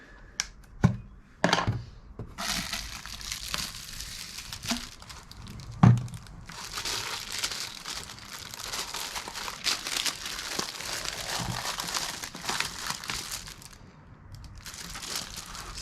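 Sticker packaging crinkles and rustles up close, with a few sharp snaps early on, then steady plastic crackling in quieter, uneven bursts.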